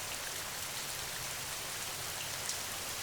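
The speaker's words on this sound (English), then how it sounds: "Together, they watched the rain fall through unseen vents, creating veils of water that shimmered like curtains of silk." Continuous soft rainfall, a faint, even hiss of countless drops falling steadily and evenly throughout, with no voices or other sounds.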